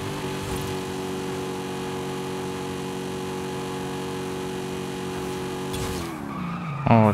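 Tires skid loudly under hard braking as a car comes in too late for a corner in a Forza Horizon 5 head-to-head race between a Ford Mustang and a Dodge Charger. A steady, tonal squeal with engine hum holds for about six seconds, then cuts off.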